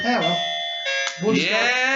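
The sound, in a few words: doorbell ringing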